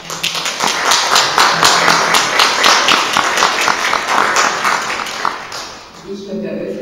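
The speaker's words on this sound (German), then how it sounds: "mit einem herzlichen Applaus begrüße ich Leo Raslak" A crowd gives warm applause to welcome author Leo Raslag at a public reading evening, the clapping dense and lively for several seconds before fading as a voice begins speaking.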